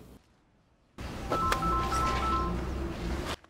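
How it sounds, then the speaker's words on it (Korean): An electronic ringtone with repeating tonal beeps plays for a few seconds over a dense background, sounding nearby and moderately loud. "어디선가 울려오는 벨소리."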